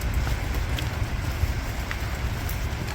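Heavy rain in Canada hisses steadily and evenly across the whole clip, a dense continuous patter with no voices.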